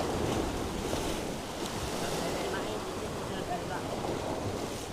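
Sea waves wash steadily against the shore as the tide goes out, a continuous broad roar mixed with gusty wind noise on the microphone.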